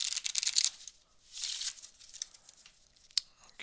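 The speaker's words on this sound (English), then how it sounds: "And then let's go ahead and give these a nice shuffle." Playing cards being shuffled during a close-up sleight-of-hand magic performance, giving two or three bursts of crisp riffling, papery flutter, each lasting under a second, followed by a lone sharp snap, with no talking.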